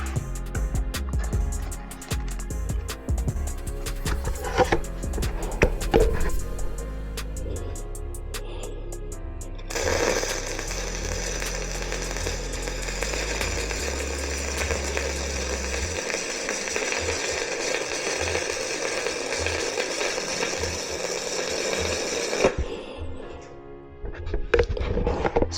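A Multimatic 215 PRO welder runs 6013 stick electrode, giving a steady, loud crackling buzz that holds for about twelve seconds after a shorter, busier start and then cuts off near the end.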